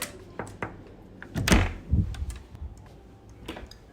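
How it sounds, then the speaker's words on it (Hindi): Knuckles rap a few times on a door to a kid's room in a designed house, with separate dull thumps and a quieter tap afterward in a quiet indoor space. "Seems like I need to knock here."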